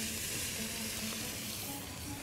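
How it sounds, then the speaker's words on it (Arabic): Onions sizzle in hot oil for shrimp maqluba, a close, steady frying hiss that holds through the short stretch without any talk. "هنا بقى نحط الزيت بتاعنا بعد كده نحط البصل"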